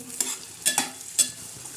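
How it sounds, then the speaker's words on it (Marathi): Onions being stirred as they fry in a kadhai for a green safflower-leaf (kardai) stir-fry, with three sharp scraping strokes over a steady soft sizzle, close and without talk. "असा लालसर कांदा करायचा ते चांगले असे हलवून घ्यायचं"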